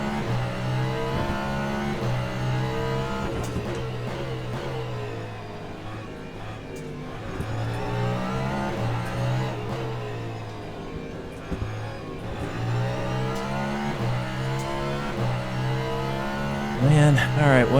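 A Porsche race car in the Le Mans Ultimate sim at Sebring closes in, its engine note climbing and falling through gear changes alongside other cars, with a commentator talking throughout.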